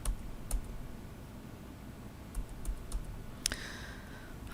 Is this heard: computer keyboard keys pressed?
yes